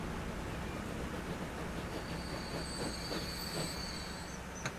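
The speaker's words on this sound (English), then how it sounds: "Here comes my first grain train" A grain train passing in the video game Transport Fever 2, with a steady rumbling roll of wheels on track and faint high squeals of the wheels, at a moderate distance and unbroken by talk.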